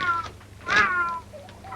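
A cat meows several times, with one louder, drawn-out meow near the middle and shorter softer calls before and after it, close by and with no speech over it.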